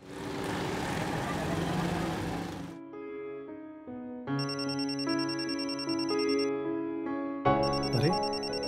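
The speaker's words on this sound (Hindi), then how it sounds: "ये तो बॉस का फोन है।" A telephone rings with a steady electronic ringtone, a repeating tonal melody that plays loudly and close, taking over after a dense burst of background noise in a Pakistani courtroom drama.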